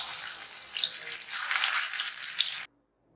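Banana slices deep-frying in hot oil for banana chips, a dense close bubbling hiss that runs steadily for over two seconds and then cuts off abruptly into silence.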